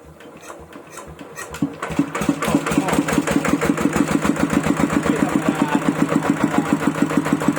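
A Kubota ET110 diesel engine over 20 years old cranks and fires, then settles into a loud, steady, rapid thumping idle with an even single-cylinder beat, heard alone without talk.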